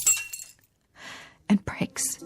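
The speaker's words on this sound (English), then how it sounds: "it slips out of my hand. It hits the floor." A glass of water slipping from a hand and smashing on a hard floor in a radio drama, a sharp crash with scattered bright shards, near and loud, after a brief pause, among other close clattering.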